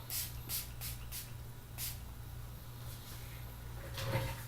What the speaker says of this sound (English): It's like a little misty spray, kind of nice.